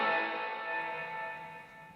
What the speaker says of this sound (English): you can hear there's a lot of compression going on because the built-in reverb kind of blooms